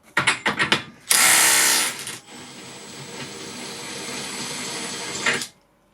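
A Makita 18V impact wrench on its third setting removes a nut: a few sharp clacks, then a loud burst of hammering as the nut breaks free, dropping to a softer, steady spinning whir before stopping.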